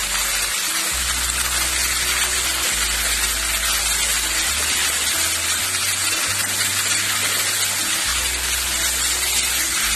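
Chicken curry stirred in a frying pot gives off a steady, loud sizzle with a constant hiss and a low, uneven rumble underneath, running without talk throughout.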